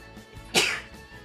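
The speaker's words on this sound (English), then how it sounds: "And I'm about to sneeze." A Sims character in The Sims 4 gives a single loud sneeze, a sharp burst standing out from quiet game background sound.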